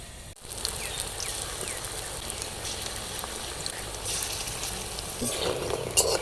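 Pumpkin flower fritters frying in hot oil, a dense, steady crackling sizzle up close, briefly interrupted near the start and swelling slightly toward the end.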